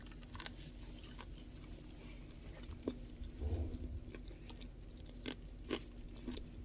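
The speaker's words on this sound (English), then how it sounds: "listen for the crunch. We'll do a little crunch test." A few crisp, close crunches as crunchy air-fried tofu is bitten into and chewed, quiet and sparse against a faint background hum.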